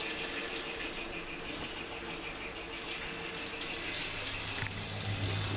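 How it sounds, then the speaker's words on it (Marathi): Fish sizzling in hot oil in a pan, a steady dense crackle and hiss that holds evenly throughout, close and moderately loud with no voices. "मस्त ना आता आवाज येतो तेलाचा"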